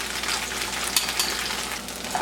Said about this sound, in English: It is cooking nicely in the oil.